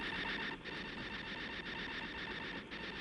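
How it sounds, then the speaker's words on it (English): Faint, steady mechanical whirring and rattling like a stuck printer, with a regular rhythmic dip about once a second, continuous and low in level. "Sounds like the printer's stuck."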